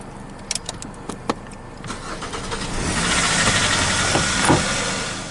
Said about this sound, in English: After successfully activating the engine with a USB cord, Swervo's on the move